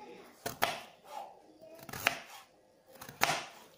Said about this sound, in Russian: Так, теперь режем морковку.